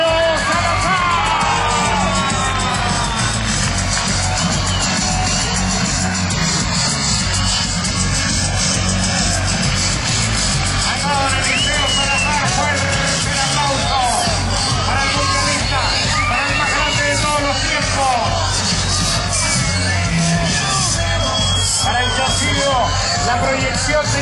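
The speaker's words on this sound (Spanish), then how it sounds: "Quiero pedir un fuerte aplauso para todos los chilenos, para Eliseo Salazar." A crowd cheering, yelling and whooping in honor of Chilean racing driver Eliseo Salazar at a rally ceremonial start in La Serena, loud and continuous throughout, with shouts rising above the dense babble.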